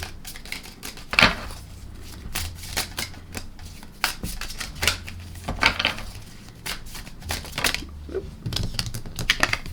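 Tarot cards are shuffled and drawn by hand, giving quick papery riffles, snaps and taps in uneven bursts, close and fairly loud.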